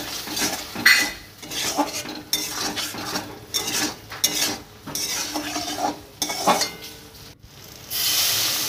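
A spoon scrapes and clinks against a pan as a ground cumin, coriander and soaked dried pea paste is stirred and fried, irregular metallic scraping over a soft sizzle, close and without speech.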